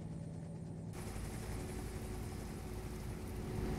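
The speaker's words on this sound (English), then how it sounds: "speaking of helicopters, I hear one flying overhead." A helicopter passes overhead as a steady, broad rumbling wash of rotor and engine noise that fills the clip, constant and fairly loud with no voices.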